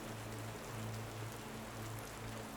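Steady, soft rain falls as a continuous even hiss with no breaks, under a faint low hum and with no talk.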